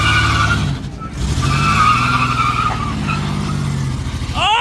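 Beat-up junkyard trucks skid and slide across a front-yard derby, tires scrubbing and engines roaring loud and close for several seconds, easing briefly before surging again, with a final squeal at the end.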